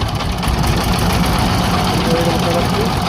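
A river trawler boat's engine idles with a steady low, rumbling drone and knocking vibration, close and continuous throughout.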